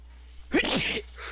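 A single sharp human sneeze bursts out loudly and close, sudden and brief, with a faint low hum beneath before and after.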